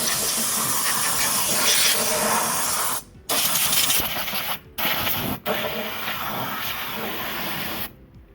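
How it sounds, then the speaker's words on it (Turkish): Compressed air blasts into a Peugeot's air filter housing during servicing, loud close hissing bursts broken by several short pauses. "bulunduğu koyduğumuz yere bir hava tutalım arkadaşlar"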